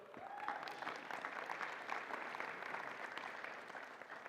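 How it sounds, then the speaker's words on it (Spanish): A church congregation applauds together in a steady, dense wash of clapping that holds throughout without pause, filling a large worship space with no clear speech over it. "Dele un aplauso al Señor."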